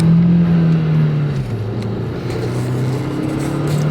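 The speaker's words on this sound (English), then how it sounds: "it's a turbo stick shift wagon" A Volkswagen turbo stick-shift wagon drives along a road, its engine humming steadily from inside the car. The pitch drops briefly as it shifts gears, then settles back into a continuous drone.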